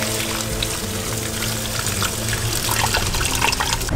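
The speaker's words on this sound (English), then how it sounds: "Now I'm gonna just add water until we're just covering the fish heads." Water poured steadily into a pot over fish heads for soup stock, a continuous close splashing and gurgling flow that runs without a break throughout.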